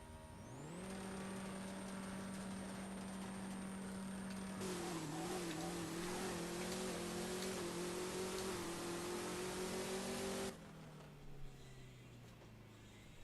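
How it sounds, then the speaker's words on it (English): A drag-racing car in No Limit 2 holds a loud, steady engine drone that climbs in pitch, surges harder midway, then cuts sharply to a low idle, with no talk. "I can actually turn down the car for you guys if you think it's too loud."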